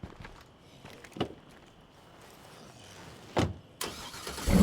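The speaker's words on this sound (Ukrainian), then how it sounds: "може якщо я заведу машину" Car engine starting in State of Decay 2, a few short mechanical bursts and clunks building to a louder sustained rev at the end, with no talk over it.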